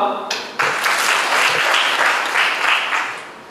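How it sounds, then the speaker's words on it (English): Audience applause at an internship seminar, a dense wash of clapping that swells in after a brief spoken moment and holds steady before tapering off. "Give him a clap"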